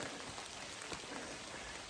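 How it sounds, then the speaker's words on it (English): Steady rain falls on a hard surface during an Appalachian Trail thru-hike, a dense even hiss with scattered drop taps, nothing else audible. "It's already raining."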